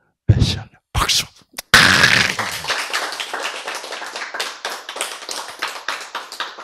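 An audience at a Korean Bible lecture breaks into applause: a few sharp early claps swell into a dense, rhythmic round of clapping that gradually fades.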